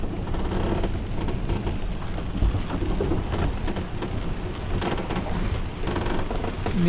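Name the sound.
typhoon rain and thunder outside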